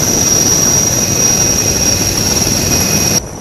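An Indian Coast Guard helicopter hovers over a flooded area during a rescue, a loud, continuous rotor and turbine roar with a steady high whine, close overhead, cutting off abruptly near the end.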